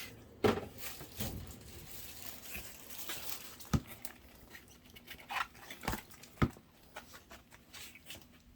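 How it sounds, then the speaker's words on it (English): Soft, scattered thuds, clatters and wet rustling as loose food scraps are tipped into a worm composting bin, quiet and close with irregular bumps. "Let me give them the remainder of the food scraps."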